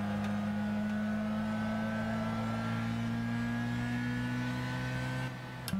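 A Mitsubishi Lancer Evolution X GSR '07 in Gran Turismo 6 racing at Big Willow gives a loud, steady engine drone held at high revs, then a brief dip near the end from a lagged upshift.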